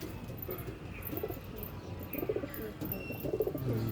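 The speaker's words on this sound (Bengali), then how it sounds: "সব পায়রা বসে আছে এখানে" Young pigeons coo softly and repeatedly at close range, their low murmuring calls coming in short bursts over a steady background hum, with occasional faint chirps from other birds.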